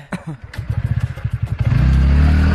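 A motorcycle engine revs up close by, starting with rapid chugging pulses that climb into a loud, sustained roar. Voices talk over it at times.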